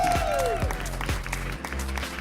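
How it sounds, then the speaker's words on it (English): Audience applause at a live San Diego evening talk show, a dense wash of clapping held steady for about two seconds, with a falling whistle-like tone at the start and faint voices mixed in. "Why don't we give a round of applause for Jack?"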